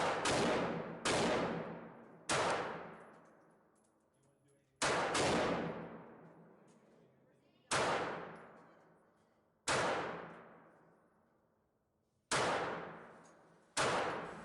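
Seven single shots from a Hi-Point CF380 semi-automatic .380 pistol fired at 3-inch side targets 35 feet away. Each is a loud, sharp crack with a decaying ring, spaced unevenly a second or more apart.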